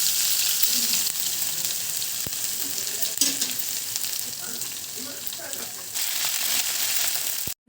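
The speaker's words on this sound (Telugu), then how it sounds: "జీలకర్ర ఆవాలు వెల్లుల్లి పేస్ట్ వేసిన తర్వాత కరివేపాకు అందులో వన్ స్పూన్ పసుపు యాడ్ చేసుకొని" Cumin, mustard seeds and garlic paste fry in hot oil as a tempering for tomato chutney, making a loud, continuous sizzle close by with some stirring, then cutting off abruptly at the end.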